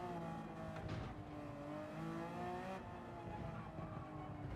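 Stock exhaust note of a road car in a racing video game, a steady engine drone with rising and falling revs through a chicane, faint and alone with no talking.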